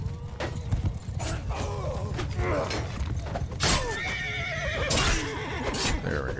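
Horse whinnies and neighs in Mount & Blade II: Bannerlord, with clip-clop of hooves and thuds from the game mix, fairly loud and repeated across a busy background.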